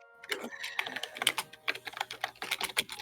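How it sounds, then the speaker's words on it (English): Rapid clattering keystrokes on a computer keyboard heard through a voice call, a quick, irregular run of clicks close to the microphone with no talking. "I can hear you typing perfectly"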